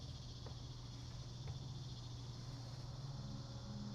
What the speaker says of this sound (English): Hear the cicadas outside?